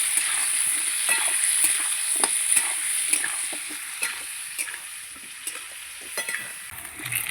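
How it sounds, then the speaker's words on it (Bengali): Chopped potatoes and onions fry together in a pan with turmeric, giving a steady close sizzle with repeated scraping stir strokes throughout. "পেঁয়াজ আর আলু একসঙ্গে ভাজবো।"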